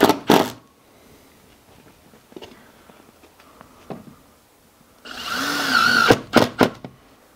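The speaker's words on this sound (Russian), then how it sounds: "Вот так вот выглядит закрученный саморез." A power screwdriver drives a self-tapping screw into a fibre cement Cedral siding board, a short whirring burst near the end amid clicks and handling knocks, close and without talk.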